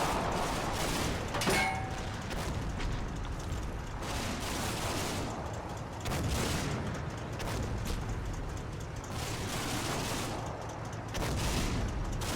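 Gunfire from a war video game, steady and dense, with overlapping shots and rumbling explosions over a continuous battle din for the whole stretch and no talking.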